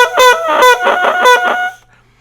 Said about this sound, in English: if you're getting a crow that has kind of a quacking sound in it,